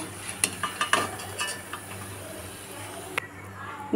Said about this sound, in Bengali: বাকি পেঁয়াজিগুলো একইভাবে ভেজে নেব।